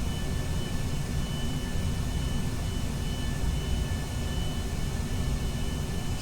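An aircraft engine throttling up for takeoff down a runway in Kerbal Space Program, a steady, loud, broad roar and hiss that holds constant throughout with no breaks.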